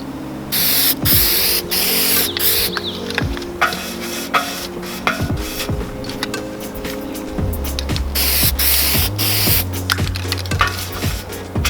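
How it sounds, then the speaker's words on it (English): Spray painting patio furniture during a woodgrain restoration: bursts of hissing spray over a steady low mechanical hum from the sprayer, close and fairly loud, with no talking. "we're going to spray it"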